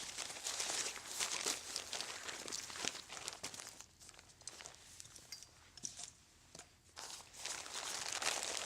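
A Chimera soft bank from a De Sisti light kit is unzipped and opened, giving close crinkling fabric rustles, zipper rasps and handling noises that come in bursts with a short quieter gap.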